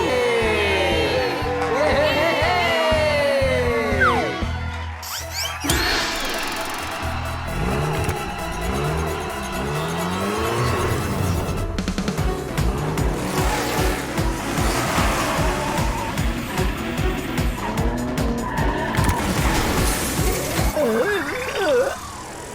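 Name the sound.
cartoon race car skidding and overturning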